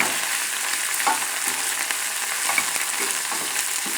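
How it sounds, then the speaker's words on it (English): Steady, even sizzle of a stuffed salmon filling frying in a pan as cilantro is stirred in, with faint soft scrapes of a utensil running through the dense hiss. "Give it a stir."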